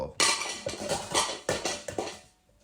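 An enamel pot falls and clatters, giving a burst of metallic bangs and rattles that bounce several times and then fade out.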